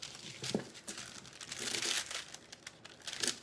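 Aluminium foil crinkling and crackling as it is cut with scissors and handled, a run of close, dry rustles with a few sharper tearing snaps, loud and alone with no voices.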